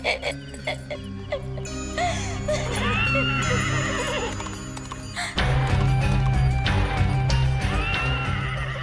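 Horses neigh repeatedly in a rural village setting, with hooves clip-clopping and chickens clucking nearby, the whinnies loud and close over a layer of music and scattered voices.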